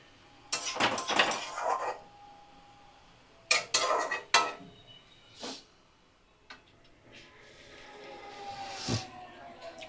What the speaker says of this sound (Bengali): এবার আমি একটু ঢাকা দিয়ে রাখবো।